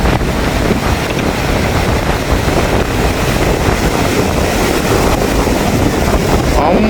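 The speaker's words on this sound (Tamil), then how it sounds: "பாருங்க அடிக்கிற காத்து" Strong storm wind roars across the coast at Keerimalai in Jaffna, a loud, constant buffeting rush that pummels the microphone, with surf churning beneath it and no letup.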